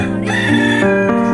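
A chicken calls loudly and close by, one drawn-out, tuneful squawk that wavers in pitch for about a second.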